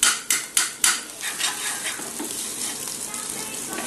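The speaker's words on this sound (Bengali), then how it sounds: "দেখো ডিমের ভুজিয়া করছে, মানে ডিম ম্যাগি খেতে ইচ্ছা হয়েছে।" Eggs frying and being stirred into egg bhujia for egg Maggi: a few sharp clanks of a spatula against the pan, then a steady oil sizzle that continues alone, close by.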